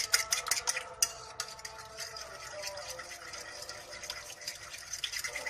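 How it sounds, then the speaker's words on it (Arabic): Two eggs with black pepper and salt are whisked briskly in a bowl, with quick rhythmic clicks of the utensil against the bowl that are sharpest at first and then settle into a softer, steady stirring. "نخلط البيض كويس"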